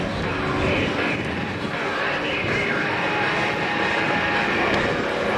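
A Yak-50 aerobatic propeller plane's radial engine drones loudly and continuously at an airshow, a thick steady roar with no breaks.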